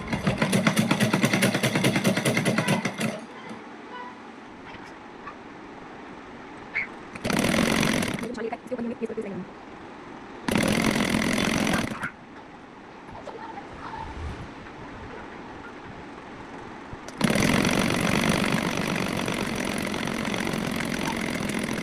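Sewing machine stitching lace onto a suit in several loud, steady bursts of rapid whirring separated by quieter pauses, with someone talking between the runs.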